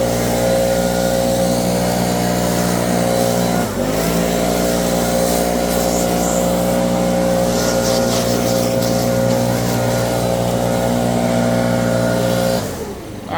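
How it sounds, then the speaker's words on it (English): A Stihl BR backpack leaf blower blows leaves off into the woods: a loud, steady engine drone up close, with a brief dip in pitch midway before it winds down at the end. "Now I was just blowing the leaves off into the woods."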